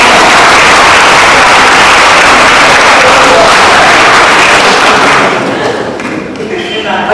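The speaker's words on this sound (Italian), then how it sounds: "Benissimo, applauso," An audience applauds at a book presentation, dense clapping at full strength for about five seconds before it thins and fades out.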